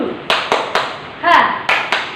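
A school class does the rhythmic spirit clap, sharp, close, loud hand claps in a quick, uneven pattern, broken midway by a short shout from the children.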